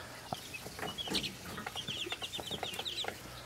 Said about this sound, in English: we're starting to raise things like chickens now, and these are baby chicks.